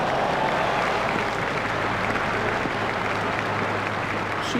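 A cricket crowd at a South Africa versus Australia one-day international applauds a shot with sustained, dense clapping from a large stadium audience, loud and continuous throughout.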